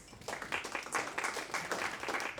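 A panel audience at a talk on DePIN in Switzerland applauds a legal tech panelist as she is introduced; the clapping is faint and brief, a soft patter with a few stronger claps standing out.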